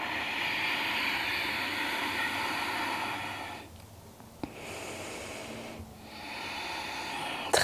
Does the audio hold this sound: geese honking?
no